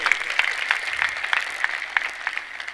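Audience applause at a community meeting of the Aagri Koli Bhumiputra Mahasangh, a steady patter of clapping hands with sharper individual claps scattered throughout, fairly close and without speech.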